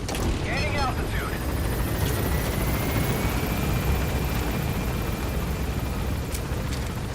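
A helicopter in Metal Gear Solid V: The Phantom Pain lifts off with a loud, steady rotor roar and engine drone that runs unbroken throughout, with a faint voice briefly near the start.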